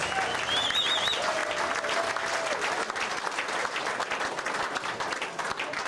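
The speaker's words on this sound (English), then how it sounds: "Let's give him one more round of applause" Sustained applause fills a large room at a Little League banquet for an outgoing TV sportscaster, a dense steady roar of many hands with a faint crowd murmur and a brief whistle early on.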